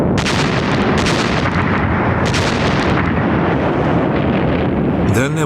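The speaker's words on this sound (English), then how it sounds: "there was a devastating artillery bombardment" A Soviet artillery bombardment in WWII footage, a dense, continuous roar of heavy gunfire and blasts with several sharper bursts, loud and distant-sounding, overlaid with wind-like rumble.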